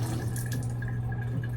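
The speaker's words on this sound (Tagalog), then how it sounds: "Pero ang daming tumatagas na tubig." Water leaking from a tap, a continuous close trickle with faint drips over a steady low hum.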